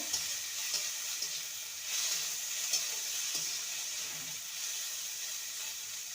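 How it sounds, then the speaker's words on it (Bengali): Sliced onion frying in oil in a pan for a Bengali kakrol (spiny gourd) bhorta, a steady close sizzle with occasional soft stirring scrapes and no talking. "পেঁয়াজটাকে লাল করে ভেজে নিয়েছি"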